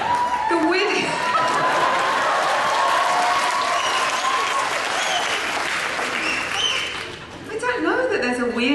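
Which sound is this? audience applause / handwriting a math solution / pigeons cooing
audience applause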